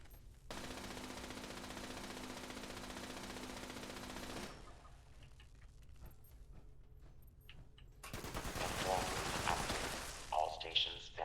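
Gunfire in the Fallout 76 game: sustained automatic bursts rattle for several seconds, then sparse shots, then heavier firing returns, moderately loud against a steady background hum, with occasional talk.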